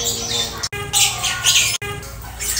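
Birds squawking loudly and repeatedly at a recreation park in Bengkulu, harsh bright calls in quick bursts with two brief gaps, under steady crowd ambience.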